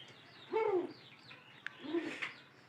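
A pigeon coos in a loft, two soft, rolling calls about a second apart, fairly close and faint, with a sharp click between them.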